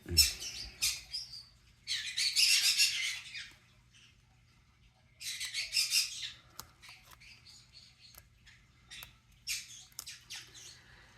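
A pet bird makes repeated kissing-like smacking sounds in short bursts separated by quiet pauses, close by, with no talking.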